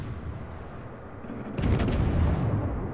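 Main guns of the American Tier-7 premium battleship California firing in World of Warships: a deep rumbling blast erupts midway and rolls on loudly after a quieter, low engine-like hum.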